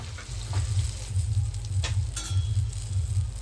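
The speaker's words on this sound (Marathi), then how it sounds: "तर मच्छीला जे आहे आपण स्लो गॅसवरती एका साईडून व्यवस्थित असं शिजून देऊयात." Fish frying in a pan over a low gas flame produces a continuous moderate sizzle with a soft low rumble and occasional pops and crackles, heard alone without any voices.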